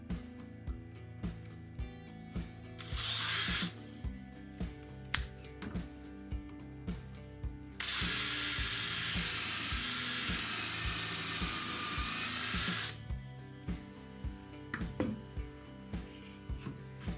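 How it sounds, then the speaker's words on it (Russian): Power drill boring holes into furniture panels through a drilling jig, with two sustained whining bursts of drilling, a short one then a longer five-second run, amid tapping and handling clicks. "Сверлим."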